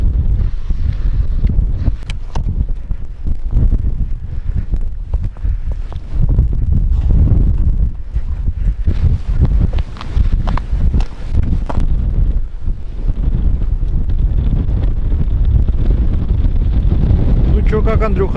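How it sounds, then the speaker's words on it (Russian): Strong, continuous wind buffeting the microphone with a heavy low roar on first ice while ice fishing in Yakutia, and a voice speaking intermittently beneath it. "Ветер усиливается."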